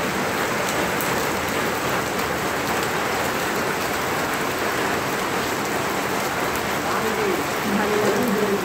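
Continuous rain pours nearby in a thick, even hiss that stays constant throughout, and a faint voice surfaces briefly near the end.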